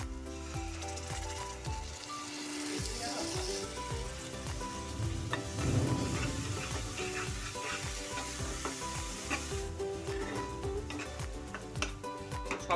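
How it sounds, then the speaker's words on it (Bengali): Spice masala for a vegetarian Kashmiri aloo dum fries after whisked sour yogurt is added: a quiet, steady sizzle with occasional stirring sounds over several seconds, no voices. "এবারের মধ্যে ফেটিয়ে রাখা 4 চামচ টক দই দিয়ে দিচ্ছি"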